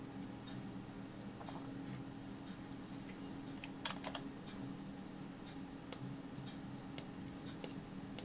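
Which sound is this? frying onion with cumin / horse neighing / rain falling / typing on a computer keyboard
typing on a computer keyboard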